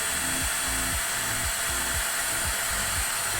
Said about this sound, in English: we would just turn it on and it just cleans itself every time you turn it on